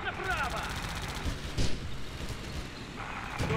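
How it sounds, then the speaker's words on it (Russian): Gunfire rattles from the hills in the WWII game Theatre of War during the Battle of Moscow, bursts of automatic fire and distant shots mixing with engine rumble over several seconds. "Сейчас будут вести огонь из-за холмов."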